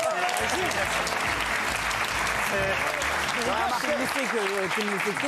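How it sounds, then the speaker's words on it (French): A studio audience applauds Gilles and Thomas on a French talk show, a dense continuous clatter of clapping beneath a speaking host's voice. "Merci Gilles et Thomas, bravo, on peut les applaudir, bravo."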